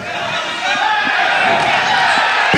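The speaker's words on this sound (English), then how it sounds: "We'll have a listen to the crowd getting behind young Harry." A packed arena crowd roars and cheers during a kickboxing match for fighter Harry Paskalidis, a loud continuous wall of voices that swells slightly partway through, with a commentator speaking over it.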